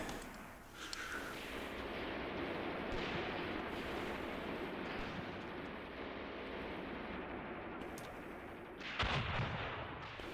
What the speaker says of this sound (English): Machine guns are doing good work over there.